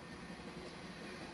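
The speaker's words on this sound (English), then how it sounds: "It's so many military trucks on this train" A long freight train loaded with military trucks rolls past on the tracks, producing a steady, even rumble of rail cars with no pauses and no voices.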